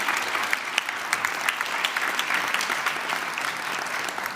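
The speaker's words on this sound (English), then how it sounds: "You may clap if you like," An audience at the European Mobility Week awards ceremony claps in a sustained round of applause, crisp individual claps standing out over a steady wash of many hands.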